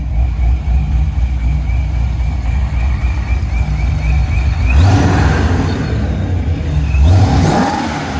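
A supercharged 2008 Chevrolet Corvette C6 V8 idles with a loud, steady rumble, then is revved hard twice, each sharp rising burst falling back to idle, close and alone.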